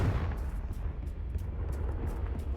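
A Confringo blasting spell goes off in Hogwarts Legacy, a dense rumbling burst of booming explosions with a few sharp crackling pops over a couple of seconds.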